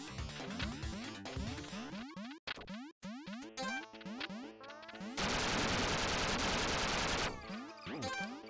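A minigun fires in Duck Game amid busy chiptune-style game effects, a long continuous buzzing burst of rapid fire lasting about two seconds, surrounded by quick rising blips and sound effects.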